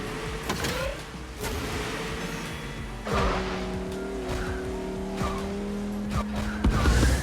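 Racing cars in a mobile multiplayer racing video game screech and skid through corners over a steady, whining engine drone, with repeated sharp tire squeals and no talking.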